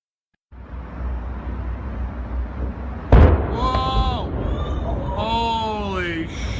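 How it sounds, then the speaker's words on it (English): Three loud explosions play from a video near a gas station: a sharp blast hits and is followed by booming rumbles over steady background noise, with a harmonic whistling tone sweeping across the later part. "it clearly shows 3 explosions"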